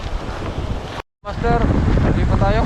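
Strong wind buffets the microphone in steady loud roars while fishing outdoors, cutting out for a moment, as someone speaks over it.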